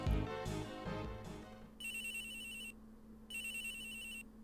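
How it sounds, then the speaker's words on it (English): A telephone rings in the Ace Attorney Investigations 2 video game, two electronic trill bursts sounding clearly after a low musical passage, with a steady tone continuing underneath. "The phone is ringing."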